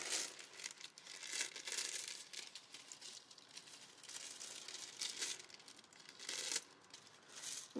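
A thin plastic grocery bag crinkles and rustles continuously in bursts as scissors cut off its handles, close and fairly quiet, with no talking.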